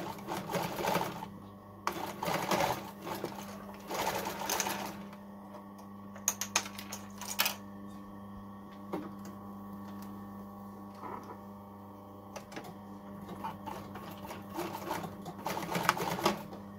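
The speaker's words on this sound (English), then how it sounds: "I'm sewing on a semi-industrial banana that's probably, I don't know, about 40 years old, roughly." A roughly 40-year-old semi-industrial sewing machine top-stitches hoodie hood panels in a series of short, brisk bursts of rapid needle clatter with brief pauses between, close and moderately quiet.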